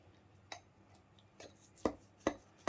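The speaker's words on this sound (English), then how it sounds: "So the knife goes really soft inside." A knife cuts through a baked lasagna that has cooked for 30 minutes, giving a few soft, separate cutting thuds spread irregularly across a quiet background, with the last ones the loudest.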